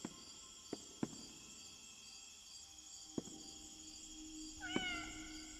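A cat in the Indigo Park video game meows once near the end, a short clear mewing call over a faint, steady ambient hum with a few soft clicks, and no talking.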